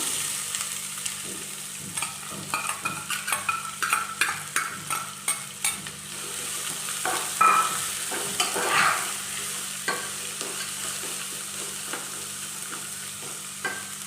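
Onions frying in oil for tomato chitranna, a continuous sizzle with a spoon stirring and scraping the pan in quick bursts during the first half, then settling into a steadier hiss.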